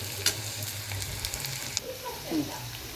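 Onions fry in a pan with a soft, steady sizzle for egg bhurji, punctuated by a couple of sharp clicks and a light scrape, with a faint voice murmuring briefly near the end.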